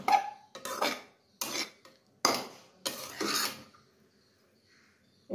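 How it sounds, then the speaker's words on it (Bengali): A wok clattering and scraping as Chinese fried rice is stirred: a handful of loud, close metallic bursts separated by short pauses, with no talking. "দেখো আমার চাইনিজ ফ্রাইড রাইস রেডি, কড়াই ঘুরে যাচ্ছে"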